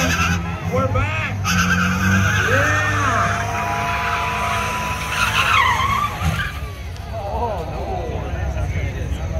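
A diesel drift car does a burnout at the Cleetus and Cars Fall 2019 burnout contest. Loud, continuous engine roar and screeching tire skid fill the whole stretch, with crowd noise and voices mixed in.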